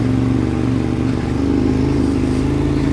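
Ducati 848 motorcycle engine running steadily on a ride, a loud, continuous close-up drone with even rhythmic firing pulses and no pause across the stretch.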